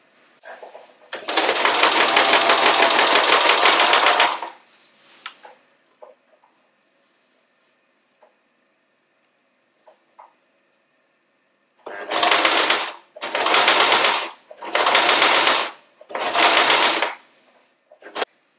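A sewing machine stitches a long 2.10 m seam joining two fabric panels of a bed canopy with a double seam: one long loud burst of running, a quiet pause, then four shorter bursts in quick succession, close and with no talk.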